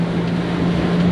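A Hydrolift X-27 SUV twin step hull performance boat runs under hard power, its engine giving a loud, steady low drone mixed with rushing wind and water noise for about a second.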